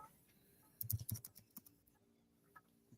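Quiet typing on a computer keyboard: a quick burst of several close, soft clicks of keys, then a few scattered taps trailing off into a low room hum.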